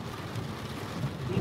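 Heavy rain in a thunderstorm while heading to Reston, Virginia: a dense, steady roar of downpour with a low rumbling undertone, continuous and loud, with no voices.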